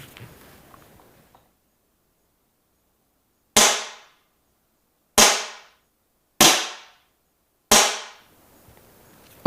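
Four sharp, loud cracks from a Beeman HW100 PCP air rifle, fired a few feet from the measuring point. Each shot snaps and decays quickly, with irregular gaps between shots and faint noise before the first.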